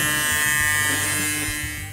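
A small toothbrush-powered toy car vibrates from its tiny motor, giving a steady, close, continuous electric buzz that holds for the whole stretch and tapers slightly at the end.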